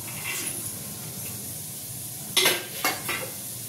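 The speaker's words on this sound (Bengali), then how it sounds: "আর এখানে নিয়েছি কিছু কাজু বাদাম আর কিশমিশ, এটাকে আমি ভেজে নিচ্ছি" Cashews and raisins fry in a pan under a soft, steady sizzle, then two sharp scraping clatters of a spatula against the pan ring out close by near the end.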